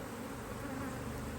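Bees buzz around an open beehive while the beekeeper works it with a smoker, a dense, steady drone filling the whole brief moment.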